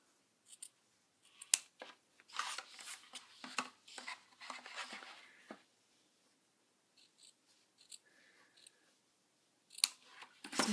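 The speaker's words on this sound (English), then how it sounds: "trim the edges." Scissors trim ribbon edges on a paper treat box, giving a run of close, crisp snips in irregular bursts with short pauses between them and no talking.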